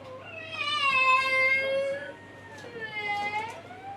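A cat meows twice, drawn-out and wavering, fairly close and clear against a quiet room hum.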